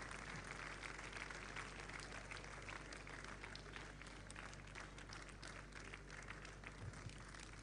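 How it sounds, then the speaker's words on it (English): Sustained audience applause following a lecture on higher education, dense steady clapping from a large crowd filling the whole stretch at an even, unbroken level. "can we sustain that applause for the wonderful lecture that we've had?"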